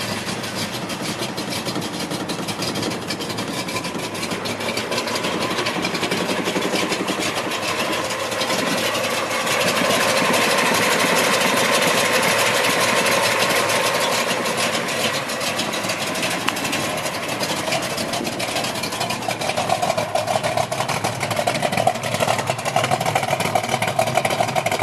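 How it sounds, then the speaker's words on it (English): A 1970 Plymouth Cuda's engine idles steadily and close by for a long stretch, a rough, even rumble with a slight rise partway through and no talk. "We're going to fire it up for you guys, let you hear the engine."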